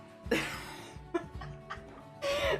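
A few scattered, close coughs and throat sounds, ending in a longer rough burst.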